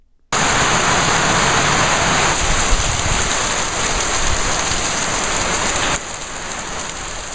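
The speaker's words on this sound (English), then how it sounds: "Right now, it's wintertime in Sierra Leone, also known as the rainy season." Steady heavy rain during the rainy season in Sierra Leone, a dense continuous hiss that starts abruptly and holds at a constant loud level, dropping slightly near the end, with no voices.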